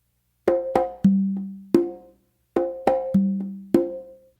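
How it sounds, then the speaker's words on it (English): Conga drums in a tumbao figure, an open tone on the tumba and one on the conga with a soft ghost note tapped between them, two short repeated phrases, close and unaccompanied. "I'm doing kind of like a ghost note in between the tumba and the conga,"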